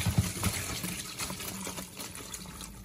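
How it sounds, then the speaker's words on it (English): Cool water poured over cooked pasta shells before straining them for stuffed shells with ricotta, a steady watery trickle and splash close by with no voices. "Add cool water to the shells just before you strain them."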